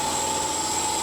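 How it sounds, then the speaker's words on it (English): An air compressor running in a workshop where knife blades of Damasteel are machined, a steady loud hum with constant tonal whine and no pauses. "stupid air compressor"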